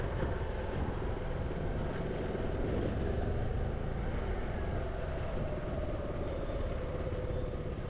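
A SYM ADXTG 400 scooter idles close by, its engine giving a steady, rough, low rumble that holds unchanged throughout with no voices.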